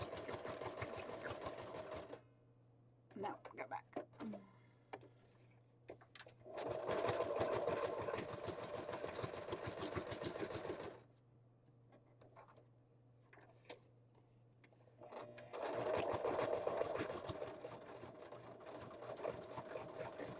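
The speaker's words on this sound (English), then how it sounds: "Sewing machine." A sewing machine runs in long bursts of rapid mechanical stitching, pausing between runs with a low hum and faint clicks in the gaps.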